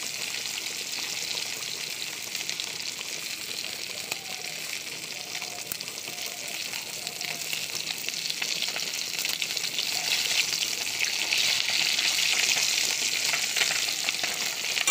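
Small hilsa fish fry in hot oil with a steady, dense sizzle that holds throughout and swells a little louder toward the end, with no one talking.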